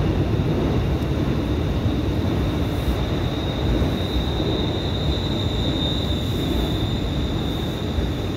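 A Class 385 electric train pulls into Glasgow Central station with a loud, continuous rumble of wheels on rail and a sustained high whine, heard close with no talk.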